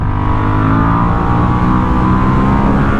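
Moto Morini 1200 Corsaro ZT motorcycle, a 2022 twin, riding along with a steady loud engine drone and deep low rumble, its odd twin-cylinder note close and continuous without any break.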